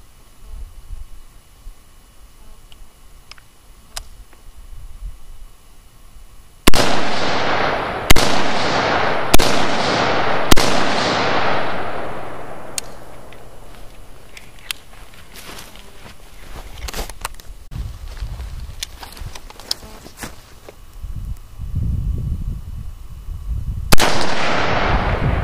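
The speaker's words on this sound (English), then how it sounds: "I'm shooting 60 grain Hornady ballistic tip" An M&P15 rifle fires 60-grain Hornady ballistic tip hunting rounds at a target outdoors, cracking loudly in a run of about five spaced shots, then several scattered quieter pops and one more sharp shot at the end.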